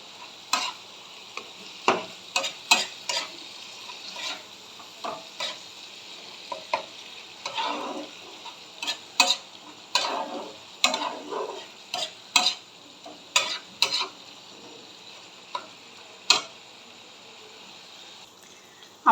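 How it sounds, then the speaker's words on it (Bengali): Spice masala with salt, turmeric and Kashmiri chili powder is stirred and fried in a pan for an egg curry. A faint sizzle runs under irregular sharp scraping and clinking strokes of the spoon against the pan, with no talk. "আমার সুন্দর করে বেশ কষানো হয়ে গিয়েছে মশলাটা।"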